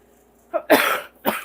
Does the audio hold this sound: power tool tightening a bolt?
no